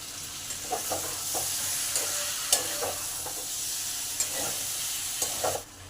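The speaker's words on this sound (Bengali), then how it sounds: "এই মশলার সঙ্গে ভালো করে কষে নেব আলুগুলো দিয়ে দিলাম" Potatoes and pointed gourd are stirred into spice paste in a hot pan, producing a continuous near sizzle with irregular scraping and knocking of the spatula against the pan.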